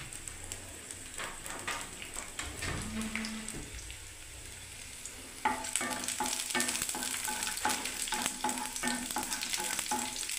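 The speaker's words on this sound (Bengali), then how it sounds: "তেলের মধ্যে আমি দেখুন রসুনটা দিয়ে দিলাম বন্ধুরা" Garlic and cardamom fry in hot oil, with a soft crackling sizzle that swells into a louder, denser hiss partway through, plus scattered stirring clicks and no talking.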